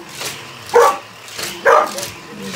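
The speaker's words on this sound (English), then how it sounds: "Hey, stop barking." A dog indoors gives two short, loud barks about a second apart, close by, with quieter whimpering sounds between them.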